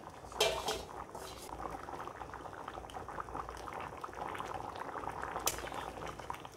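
Fish curry with taro bubbling steadily in a pot, a continuous soft boiling and popping simmer at close range, with a few louder splashy bursts.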